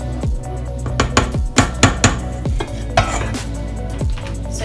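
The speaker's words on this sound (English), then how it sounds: "Any other bits, I just mix those up just to make sure it's all mixed in nicely" A spoon knocks and scrapes against a bowl while mixing moist chocolate cake batter, with a few sharp clinks standing out over a steady stirring rustle.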